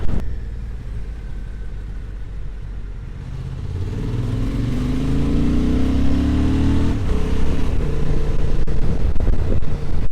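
Honda Transalp XL750 motorcycle accelerating away from a toll booth, its engine note climbing steadily for several seconds and growing louder over continuous road and wind noise.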